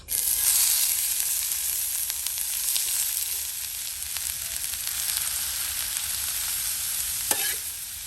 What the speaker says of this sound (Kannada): 2 ಈರುಳ್ಳಿಯನ್ನ ಚಿಕ್ಕ ಚಿಕ್ಕದಾಗಿ ಕಟ್ ಮಾಡಿ ಹಾಕ್ತಾ ಇದ್ದೀನಿ